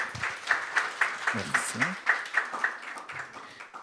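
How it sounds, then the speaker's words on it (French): Scattered, light clapping from a conference audience as a guest is called to the podium, a handful of distinct claps at a moderate distance, with a voice speaking briefly over it. "Applaudissez."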